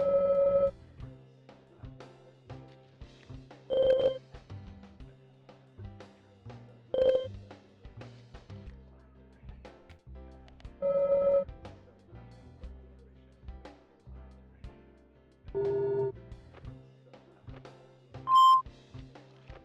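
Loud electronic beeps from a Deadly Premonition Origins cutscene ring out in separate bursts every few seconds over a quiet low musical bed.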